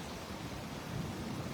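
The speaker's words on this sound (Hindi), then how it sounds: "बारिश तो तेज़ हो चुकी है" Heavy rain pours steadily outdoors in Ajmer, a dense, continuous broadband hiss with no pauses, moderately loud and steady throughout.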